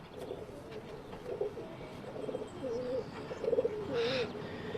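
Pigeons coo repeatedly in soft, throaty phrases, close by, with a brief higher chirp near the end over faint background noise.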